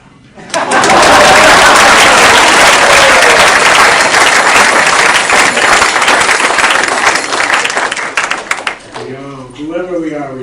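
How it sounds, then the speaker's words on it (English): Loud, sustained applause from an evening class audience fills nearly the whole stretch, dense and steady before thinning out as a voice resumes speaking at the end. "Please clap."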